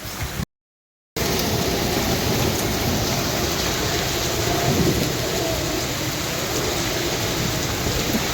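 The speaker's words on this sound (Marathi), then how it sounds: "तुफान वारा आणि पाऊस एकदम खतरनाक पाऊस पडलाय" Heavy unseasonal rain pours down with strong wind, a dense loud roar that continues almost unbroken after a brief dropout near the start.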